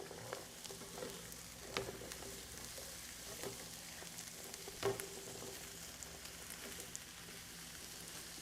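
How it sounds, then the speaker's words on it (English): Corn and squash fry in a pan with a soft, steady sizzle and a few scraping stirs, heard close and quiet with no talking. "we're going to get all of this corn and squash into the pan and get that cooking."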